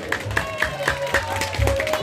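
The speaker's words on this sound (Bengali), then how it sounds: "একবার কুশল দত্তের জোরে হাতে তালি" At a drawing school's convocation ceremony, an audience breaks into lively, rhythmic hand clapping that carries on steadily throughout, with some voices underneath.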